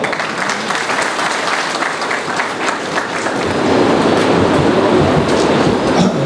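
Applause welcomes a speaker at a local gathering in Talagang district, a loud, continuous roar of clapping from a large crowd that swells stronger toward the end.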